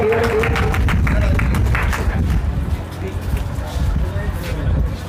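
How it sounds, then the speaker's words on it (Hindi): Applause for a child's speech at a school Republic Day event, many hands clapping in a loud burst that tapers off, crowd murmur underneath. "जोरदार तालियों से हम लोग इस बच्चे की भाषण को बढ़ाएंगे।"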